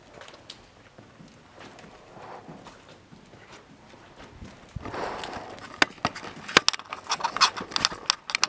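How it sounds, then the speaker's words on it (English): Horse hooves clop irregularly on a hard surface, faint at first and then louder and sharper after a few seconds, with scattered knocks and rustling around them. "A horse?"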